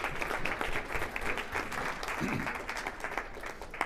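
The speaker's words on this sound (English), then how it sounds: "let's have a round of applause for that" Audience applause at a workplace sexual harassment training session, steady dense clapping from a room of people, sustained at moderate volume for the whole stretch.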